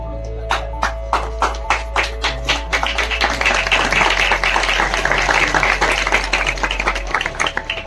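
A village welcome ceremony breaks into applause: a few distinct claps first, then a loud, dense burst of clapping from the crowd that continues steadily.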